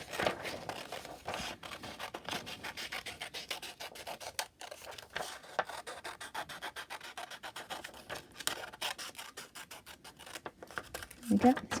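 Scissors snipping through paper to cut out a circle, a run of soft rasping, scratchy cuts repeated steadily at close range, with a voice talking faintly in between.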